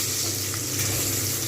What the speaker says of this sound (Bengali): দেখা যাচ্ছে বেগুনগুলো কিন্তু খুব সুন্দরভাবে ভাজা হয়ে গেছে